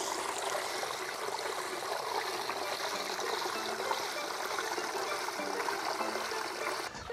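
Waste water drains from a 4x4 camper truck's hose into a roadside gutter as a continuous rushing, trickling stream that stays steady and fairly close, with no talk.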